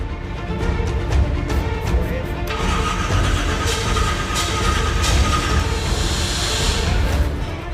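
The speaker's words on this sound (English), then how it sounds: "Starting an EFI car up that we done from scratch with turbos" A turbocharged EFI drag car engine cranks and fires up, then settles into a loud, steady running roar with a brief rise in revs.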